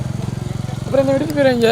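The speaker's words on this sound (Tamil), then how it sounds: "இந்த பைக் வந்துருச்சு" A motorcycle engine thumps nearby in a quick, regular pulse, then someone talks over it as the engine keeps running.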